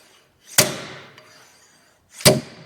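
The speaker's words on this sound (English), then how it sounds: "take your slide hammer, and you're going to want to slide back, and the weight of this slide hammer is going to pull that old bearing out of there" Two sharp metallic impacts from a slide hammer pulling an old rear axle bearing out of a Ford F150, spaced well apart, each a loud clank with a short ringing decay and quiet between.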